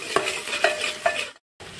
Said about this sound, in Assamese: পিঁয়াজখিনি অলপ ভাজি লৈ আছোঁ আৰু এতিয়া দি আছোঁ আদা নহৰু মিক্স কৰি এইখিনি অলপ ভাজি ল'ম।